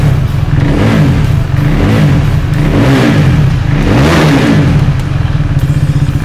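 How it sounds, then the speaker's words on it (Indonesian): A loud KTM Duke 390 motorcycle with a replaced exhaust revs repeatedly, its throaty exhaust rising and falling in a steady series of throttle blips close by. "knalpot sudah diganti ini. Jadi suaranya"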